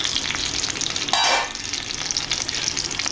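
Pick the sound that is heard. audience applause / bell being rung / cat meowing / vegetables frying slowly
vegetables frying slowly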